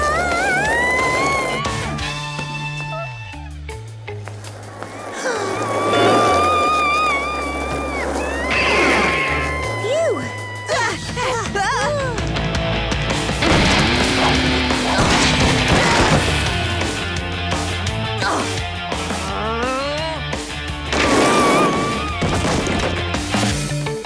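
Cartoon crash from a Dennis and Gnasher episode, a busy run of whooshes, bangs and clattering impacts layered over music, loud and continuous with brief voices mixed in.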